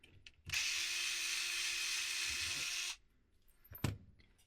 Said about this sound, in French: Hop, je retire les vis.